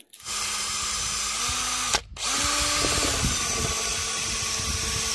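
A power drill on a stuck glow plug in a Mitsubishi 4N14 engine whines loudly, stops briefly, then spins up again and keeps running with a strained, grinding tone.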